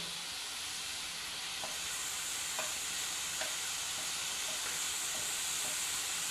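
Steady sizzling hiss of baby corn and mushroom frying in a pan as chilli powder is stirred in, with faint scraping strokes of a spoon recurring every second or so and no talking.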